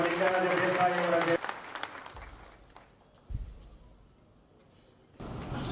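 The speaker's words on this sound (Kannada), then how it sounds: "ದಯವಿಟ್ಟು ತಾವು ಜೋರಾದ ಚಪ್ಪಾಳೆಯೊಂದಿಗೆ" Applause at an award ceremony fills the opening second or so, then fades into a quieter room tone with occasional clatter before dense sound returns at the end.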